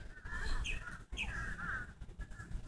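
A crow-like bird gives a series of harsh caws outdoors, several drawn-out calls at moderate distance over a low rumbling background, no speech.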